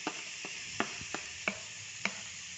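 Onions and soya chunks softening in a pan: a gentle steady sizzle with several crisp spatula taps and scrapes at irregular intervals, close and moderately quiet.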